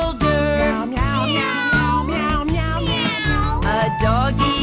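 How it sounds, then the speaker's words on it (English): A cat meows repeatedly and loudly up close, five or six drawn-out, pitch-bending cries in quick succession with short gaps, no talk. "A cat jumped up on my shoulder."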